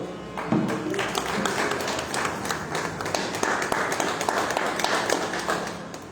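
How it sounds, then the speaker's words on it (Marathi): Audience at a kirtan gathering in a temple gives steady, dense clapping throughout, a continuous wash of many hands at fairly close range with no pauses. "सर्वांनी टाळ्या वाजवून त्यांचं स्वागत करावं."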